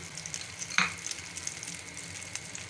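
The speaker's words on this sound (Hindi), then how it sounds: "मैंने फ्लेम को जला लिया था, और जलाकर इसमें ऑयल को थोड़ा सा मैंने गरम कर लिया है। अब हम इसमें डालेंगे।" Pizza-style omelette mixture frying in hot oil in a pan, a steady close sizzling hiss with one sharper spatter early on, no voices.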